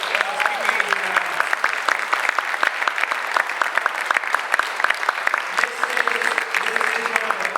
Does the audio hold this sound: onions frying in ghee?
no